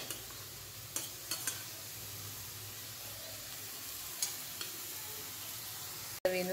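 Onion sautés quietly in a pan while poha is loosened nearby, a faint, steady sizzle broken by occasional soft clicks and taps of stirring, with no speech.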